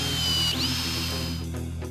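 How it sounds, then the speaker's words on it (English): A cordless drill bores pocket holes in wooden frame boards, a loud steady high whine for over a second that changes pitch midway, then winds down, close with no talk. "I drill pocket holes to connect the frame pieces."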